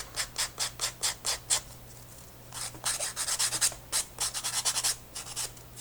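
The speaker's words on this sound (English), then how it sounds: "I take just a regular emery board nail file thing" An emery board nail file rubs back and forth across a wooden craft stick bookmark, giving rhythmic bursts of dry scratchy rasping, one run of strokes, a pause, then a faster run, close and moderately loud.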